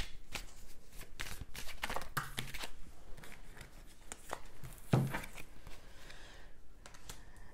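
Oracle cards shuffle close by in a quiet room, with repeated riffling and soft slapping bursts and a few sharper snaps. No one speaks.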